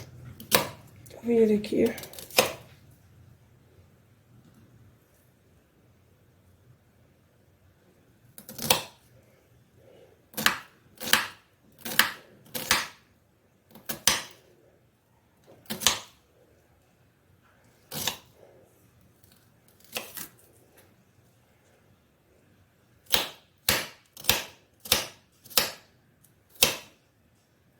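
Onion chopped finely with a knife on a board, sharp isolated knife taps in irregular clusters with pauses between, near and crisp, with someone speaking briefly at the start.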